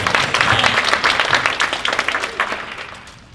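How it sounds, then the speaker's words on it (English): Dense applause from a leadership conference audience, many hands clapping at once, loud and full at first and then gradually fading away. "Let's give her a applause."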